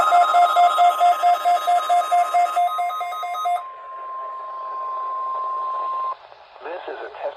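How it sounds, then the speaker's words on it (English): NOAA Weather Radio warning alarm attention signal: a dual-tone burst pulsing in a steady rapid rhythm, then one long loud continuous tone holding for several seconds before cutting off, followed by brief noisy static. "The attention signals you just heard will automatically activate special receivers to warn of the impending hazard."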